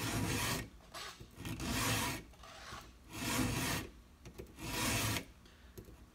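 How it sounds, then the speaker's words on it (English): A hand file sharpens the right-hand cutting teeth of a chainsaw chain, giving four long rasping strokes in a slow, even rhythm with quieter pauses between them, close and moderately loud with no talking. "keep sharpening each tooth on your file, all the right hand teeth, till they're sharp"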